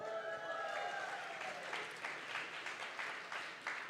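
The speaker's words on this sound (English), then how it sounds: "I can tell by the people who applauded" An audience at a youth summit applauds, a steady wash of clapping from many hands heard at moderate distance, with faint speech at the start.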